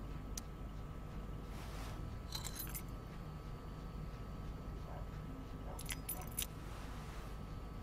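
Keys jangling in two short bright bursts over a steady low engine-like hum in the game Life Is Strange: Before The Storm.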